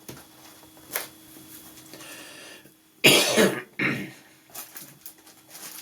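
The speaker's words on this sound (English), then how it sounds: "I have to excuse my coughing." A few harsh, close coughs burst out in quick succession after a quieter stretch with a faint click and some rustling.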